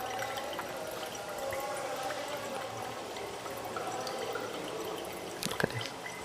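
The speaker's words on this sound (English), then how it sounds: "So if you look down in the conical flask, as the water drains out" Water draining from a separating funnel into a conical flask during an oil-and-water separation in a classroom, a soft steady trickle close by, ending with a couple of brief clinks near the end.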